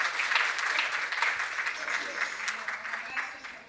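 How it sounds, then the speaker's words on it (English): Conference attendees applaud in a sustained round of clapping, fairly soft and somewhat distant, with faint voices underneath as it winds down. "Well, another round of applause for Luis Miguel."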